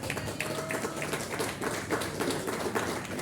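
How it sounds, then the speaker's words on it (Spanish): An audience claps steadily for the women in a Spanish-language show, a dense patter of many hands at an even level throughout, with no one speaking over it. "Vamos a dar un aplauso a las mujeres"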